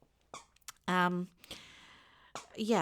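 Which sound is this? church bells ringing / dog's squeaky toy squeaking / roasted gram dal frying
dog's squeaky toy squeaking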